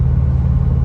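Subaru Forester STI on the road, a loud, steady low engine rumble with a constant droning hum from inside the car, no talking.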